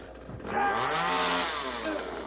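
A chainsaw in a movie scene roars up suddenly and holds a high, revving drone, loud and close, with no talk over it.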